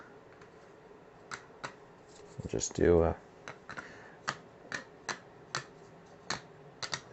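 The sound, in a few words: shuffling board game tiles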